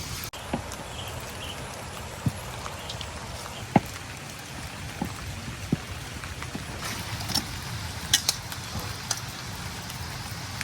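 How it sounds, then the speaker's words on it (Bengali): Steady rain patters down with scattered sharper drips and taps standing out at irregular moments, a continuous close wash of falling rain. "বৃষ্টির শব্দ খালি কানের মধ্যে শো করতেছে"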